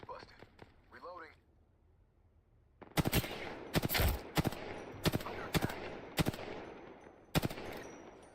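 Shooter video game gunfire: after a faint voice and quiet stretch, a series of sharp loud shots arrives in irregular bursts and single cracks, close and punchy.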